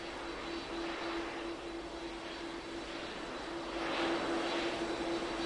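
Air India aircraft at Brisbane airport, with a steady broad engine roar and rush of air holding throughout, swelling slightly near the end, with no talk.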